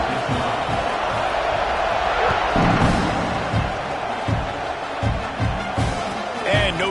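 A football stadium crowd at an Oklahoma game keeps up a steady roar with thumping impacts and cheers, broad and distant-sounding, under a commentator's talk.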